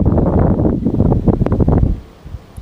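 Wind gusts buffet the microphone beside the Saône river, a dense low rumble and rustle that holds steady for most of the moment before easing off near the end; no voices.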